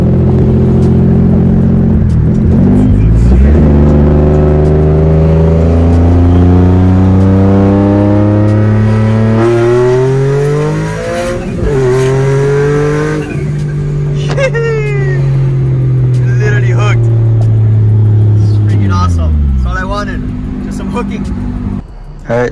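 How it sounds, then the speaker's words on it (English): A turbocharged Nissan 350Z revs hard in a second-gear pull through rising gears, the pitch climbing loudly and close, with a person talking over the roar. "I just did a pull, like second gear pull, 40 miles an hour"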